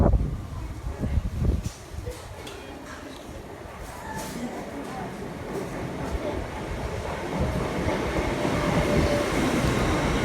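An LNER passenger train unit pulls away along the line, a steady low rumble of wheels and traction that builds gradually over the clip, with some faint clicks and squeals on top.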